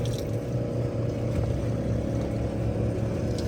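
A boat engine runs in gear at about one knot, a steady low rumble with a continuous droning hum, close and unbroken throughout.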